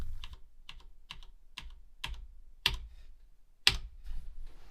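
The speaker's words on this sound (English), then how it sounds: "you tap the escape key and then tap the next key" Keys on a MEGA65 computer keyboard are tapped one at a time in an even rhythm, with two sharper, louder presses toward the end, close and clear.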